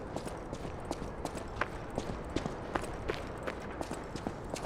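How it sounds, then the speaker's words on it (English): Loud footsteps from the Lies of P action game, a rapid steady series of sharp, hard steps like a run across a solid floor, close and prominent with no talk. "since your footsteps are so loud in Lies of P, it's extremely obvious"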